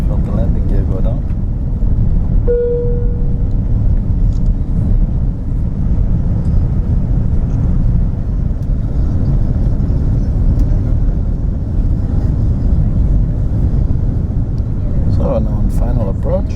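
Steady low roar of a Lufthansa economy cabin on final approach into Frankfurt after the landing gear extends, a constant rumble with a brief tone and faint clicks, while someone talks over it.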